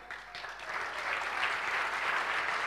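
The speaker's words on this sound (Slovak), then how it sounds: "Veľký potlesk patrí na 8. mieste aj Daniele Ledeckej." An audience applauds an athlete at an athletics awards event with a quiet, steady spread of clapping from a distance that builds slightly and holds for a few seconds.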